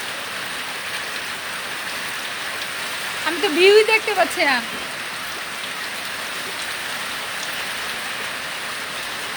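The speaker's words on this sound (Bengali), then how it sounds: "টিনের চালের বৃষ্টি উপভোগ করানোর জন্য।" Rain pouring onto a village tin roof during monsoon, a steady even hiss of drumming drops throughout, fairly loud and close, with a person speaking briefly partway through.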